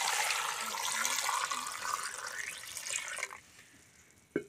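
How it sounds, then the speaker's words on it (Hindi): Water poured from a tap into a pot of potatoes, a steady loud splashing gush that stops abruptly, followed by a quiet pause and a single knock. "तो इतना सा मैंने पानी डाल लिया है आलू में"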